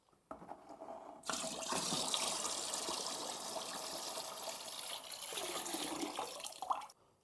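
Water is poured steadily into bourbon distillate in a whiskey-making setup, a continuous close splashing rush lasting several seconds before stopping abruptly, with no talking.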